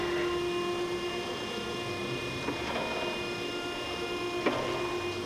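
An Okamoto 1632DX surface grinder runs with its table moving: a steady mechanical hum with constant tones and a couple of faint clicks, heard alone at moderate level.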